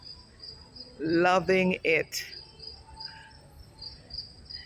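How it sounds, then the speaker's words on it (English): Crickets chirp in a steady high trill across a quiet park, faint and constant beneath a short spoken phrase from a nearby voice. "They even got the sound of crickets piped in."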